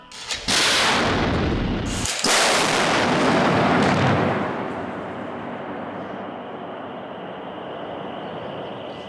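A K9 self-propelled howitzer fires a 155mm round at a defense test range: a massive, close blast with a second crack right after, then a long rolling rumble that slowly fades.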